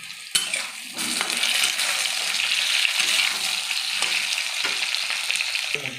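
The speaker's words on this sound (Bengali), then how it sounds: "সব আমি একসঙ্গে এগুলোকে ভালো করে ভেজে নেবো আগে।" Potato and eggplant pieces fry together in hot oil for shukto, a sudden sharp burst of sizzling that settles into a steady hiss, broken by occasional stirring knocks.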